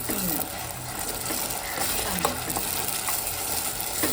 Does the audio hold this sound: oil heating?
yes